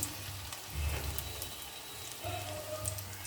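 Pakoras deep frying in hot oil, a steady crackling bubble with low rumbling swells that rise and settle, close and moderately loud throughout, with no talk.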